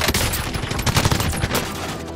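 Dense, sustained automatic gunfire crackles through a Warzone firefight, rapid bursts overlapping loudly and continuously with no pauses, a PKM machine gun in the loadout.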